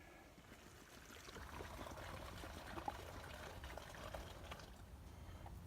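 Steady, soft trickle of roughly 500 ml of water pouring into a container at a woodland camp, continuous and fairly faint throughout.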